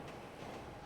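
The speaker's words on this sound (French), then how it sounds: "Je suis dans un vrai simulateur de tramway." A tram rolls along in a first-person tram simulator video game, producing a steady, loud rail rumble that fills a brief moment, continuous and without talk.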